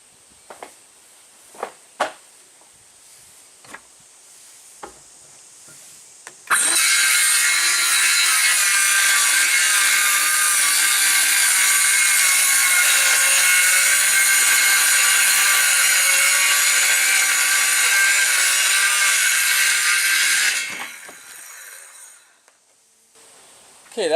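A power saw cuts a wall panel piece along a clamped level guide, a loud steady whining buzz lasting about fourteen seconds. Brief taps and handling knocks come before it, and it stops abruptly.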